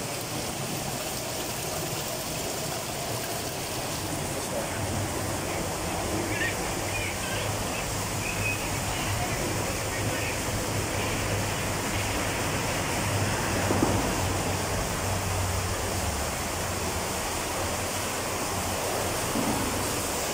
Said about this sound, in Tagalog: Pinupuno itong tubig dito para sa mga testing.